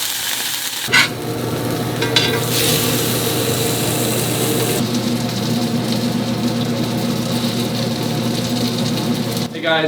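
A salmon fillet cooks in a pan with a loud, continuous sizzle and occasional clatter from utensils against the pan.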